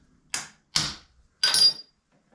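A part is knocked loose on a Cincinnati tool and cutter grinder: three sharp metallic hammer strikes, close and loud, spaced unevenly, each ringing briefly before quiet.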